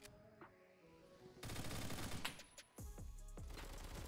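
Rapid automatic gunfire from Roblox Phantom Forces, dense overlapping bursts that start quietly and then turn loud, with a short pause before another sustained volley and some echoing shots.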